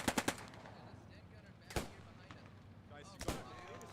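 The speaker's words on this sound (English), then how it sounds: "Second Sten gun coming in." A Sten gun fires short bursts of rapid shots in the Post Scriptum war game's Market Garden campaign, one quick burst at the start and single sharp cracks after, over quiet battlefield ambience.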